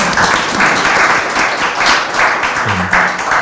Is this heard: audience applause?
yes